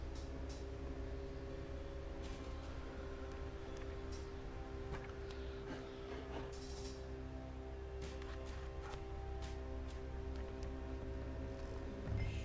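Train noise in a video game: a steady, dense rumble with a low hum and faint metallic ringing that holds at an even level for the whole stretch, with no voices over it.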